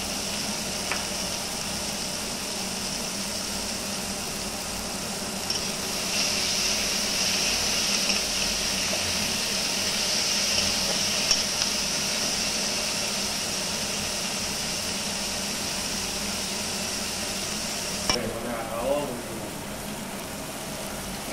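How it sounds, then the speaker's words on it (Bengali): Onions sizzling in hot oil in a pan, frying until reddish, a steady loud hiss holding throughout with a few scrape and clink sounds near the end. "তখন আমি আগে পেঁয়াজ দিয়ে লাল লাল করে ভাজতে লাগতে আছে"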